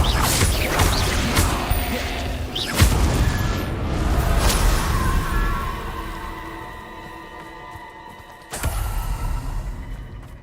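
Confringo blast spells explode in Hogwarts Legacy, loud booms and whooshing impacts crashing in a chaotic sequence, with a fresh blast near the end after a quieter ringing stretch.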